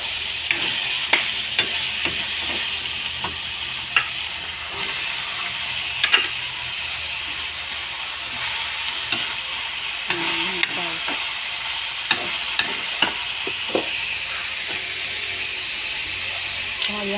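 Winged beans (sigarilyas) sizzle steadily in a hot pan while a utensil clicks and scrapes against the metal in irregular stirring strokes, with a constant hissing bed of frying.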